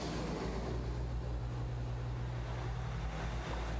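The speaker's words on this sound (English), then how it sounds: "Sounds like waves." Ocean waves in the video game Transistor form a steady, low, washing rumble that stays soft and unbroken throughout.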